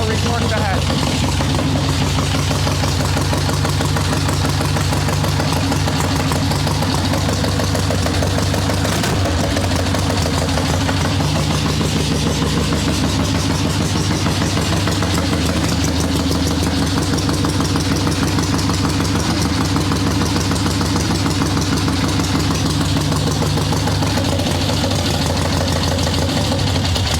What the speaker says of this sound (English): So I'll let this run on the choke for a minute and then we'll retorque the head.